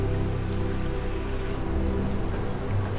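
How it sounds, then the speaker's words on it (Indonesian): Steady rain falls in Switzerland as a continuous close hiss and patter with a low rumble underneath, with no voices. "Karena hujannya nggak berhenti-berhenti udah hampir 2 jam ya"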